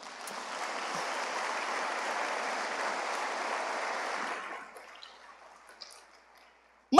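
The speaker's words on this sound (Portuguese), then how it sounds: "Aplauda o nome do Senhor." Church congregation applauding together, a dense, steady round of clapping that fades out after about four seconds into near silence.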